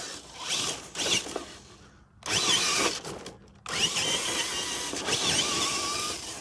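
A Hobbywing Axe R2 2100kv brushless motor in a Traxxas TRX4 RC crawler whines in bursts, revving up and cutting out twice, with gritty drivetrain and tire noise close to the microphone.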